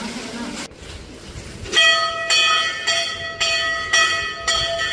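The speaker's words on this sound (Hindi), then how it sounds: "जोर जोर से घंटी बजा दी थी।" A temple bell at a Shiva temple struck repeatedly and loudly, about five ringing strikes with long shimmering overtones, each blow following the last at a steady pace.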